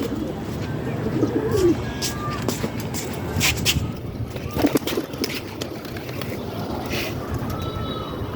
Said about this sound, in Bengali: কবুতরটা আমাদের বাসার দিকে আসছে